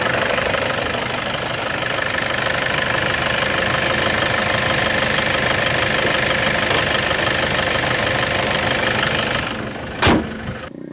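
A second-hand Toyota Innova's engine idles close by with a steady, slightly knocking mechanical rumble that holds even for about nine seconds, then cuts off, leaving a brief thump and quieter background.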